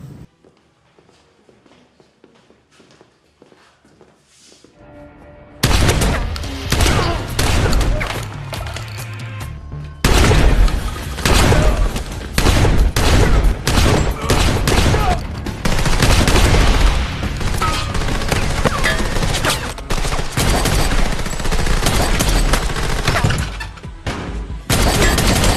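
Loud shotgun blasts and rapid gunfire burst out after a quiet opening in a John Wick action film, dense and continuous with clattering impacts and footsteps, no talk.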